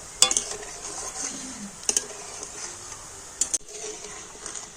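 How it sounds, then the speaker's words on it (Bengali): Fritters fry in oil with a soft, steady hiss, while a slotted spoon stirs them and gives a few sharp metallic taps against the pan. "এবার একটু হালকা জাল দিয়ে নাড়াচাড়া করে বড়াগুলোকে সুন্দর করে ভেজে নেব"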